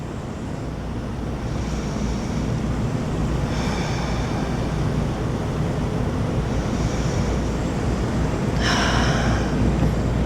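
Slow, deep breathing during a vinyasa yoga warrior flow. About four long, airy breaths rise and fall against a loud, steady background hiss like wind or surf.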